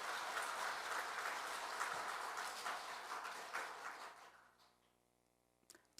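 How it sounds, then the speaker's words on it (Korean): A congregation at a Won Buddhist temple service applauds together, a dense, steady wash of clapping lasting about four seconds before tapering off into near silence, with a faint stray clap at the end. "이 선지님들께 박수 한번 쳐주실까요?"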